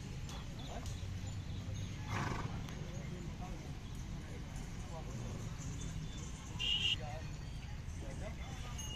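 Horses at a large annual Kartik fair horse market in Akluj, India, with faint hoof clops, snorts and a neigh among crowd noise and people talking throughout.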